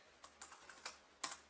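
Light, quick taps on a computer keyboard, about half a dozen distinct keystrokes in an irregular rhythm, close but soft, with no speech.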